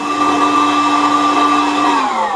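A CAFEMASY CCR-305d home coffee roaster runs loudly with a steady, high-pitched fan whine and a constant motor hum, close up and alone.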